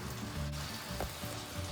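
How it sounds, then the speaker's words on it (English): Fresh spinach sautéing in a pan gives a soft, steady sizzle with light crackles and a faint stirring scrape, quiet and close, with no talking. "I'm simply going to take the spinach and put it right into the pan."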